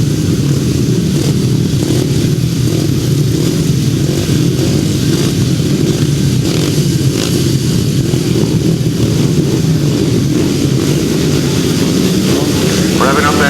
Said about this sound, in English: Revving up then for race 16 of the heat of the 350.